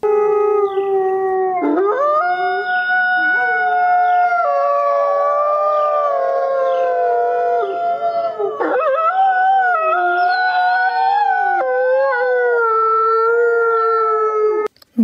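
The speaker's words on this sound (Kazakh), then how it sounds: "Бұл қасқыр. Қасқыр ұлиды." A wolf howls in long, wavering, rising and falling tones, loud and close, with several overlapping howls forming a chorus that continues steadily without a break.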